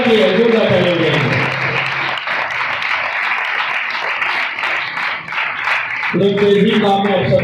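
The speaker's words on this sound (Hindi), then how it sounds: "जोरदार यीशु के जलाल की जोरदार तालियां देंगे" A church congregation claps together during a worship service, a burst of broad applause in the middle with voices speaking over it at the start and end.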